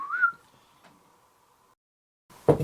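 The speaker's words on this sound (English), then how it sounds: "Do you hear a whistle?" A single thin, steady whistle tone held for over a second in a quiet room, followed by a brief muffled bump.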